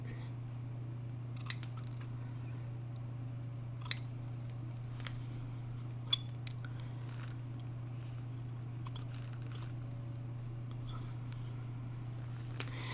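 Scissors snip through fabric in a few sharp, isolated cuts spaced seconds apart over a steady low hum, close and fairly quiet.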